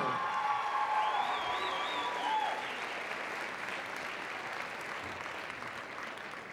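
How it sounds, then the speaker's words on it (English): A crowd at a school talent show and pageant event gives sustained applause that fades gradually. It sounds fairly distant and quiet, with faint whistles mixed in. "let's please get another massive round of applause for our 2017 Wayzata Idol winner, Dio"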